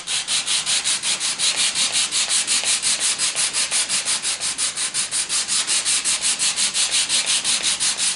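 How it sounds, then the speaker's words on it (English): Wooden tape dispenser parts being sanded with 150 grit sandpaper: fast, steady back-and-forth rasping strokes, about four per second, loud and close throughout with no talking. "this makes pretty quick work of sanding all of these"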